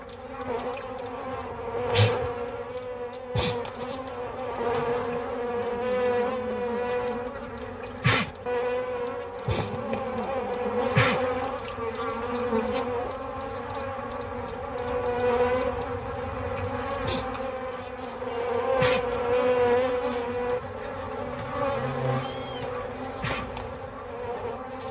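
African bees swarm around a waterhole in the dry savanna, a dense, steady buzzing drone that fills the air without pause, with individual insects now and then zipping close by and louder.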